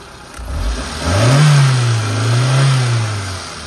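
A 2008 Hyundai Santro Xing GLS petrol engine revs up from idle to 2,000 to 3,000 rpm, rising and holding at a higher pitch with a couple of surges, loud and close, with no talking.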